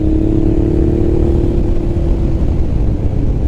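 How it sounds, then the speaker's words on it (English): A Honda NT650 motorcycle cruises at speed with a continuous, loud mid-pitched engine drone and a steady hum, heavy wind rush underneath, no speech. "This bike is just so comfortable at this speed"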